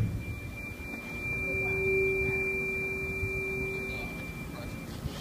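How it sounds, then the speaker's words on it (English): Tuning fork with tape on it, struck and ringing as a faint steady tone over background room noise. "when I hit this tuning fork with"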